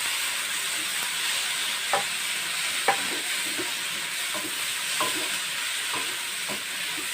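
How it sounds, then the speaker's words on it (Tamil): Chopped onions and tomatoes sauté for a dried fish thokku with a constant bright sizzle, while a spoon stirs and scrapes against the pan every second or so. "தக்காளி சேர்த்து நல்லா குழைய வதக்கிடுங்க"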